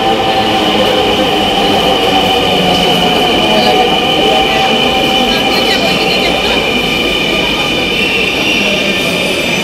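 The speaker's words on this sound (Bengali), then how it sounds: "আমাদের ট্রেন যেটা এটা এইদিকে আসবে।" A loud, continuous rumble of a metro train arriving at a station at night in Dhaka, with a steady high whine running through it, unbroken from start to finish.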